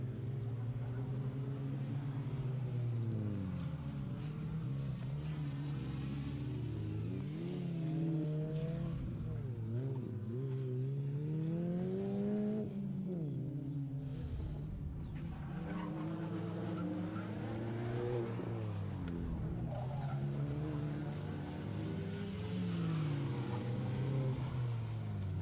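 Rally car on a closed circuit rally stage, engine revving hard and shifting pitch as it jumps over a skip and turns right, loud and continuous throughout with no talk.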